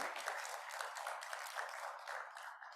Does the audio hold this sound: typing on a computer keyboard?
no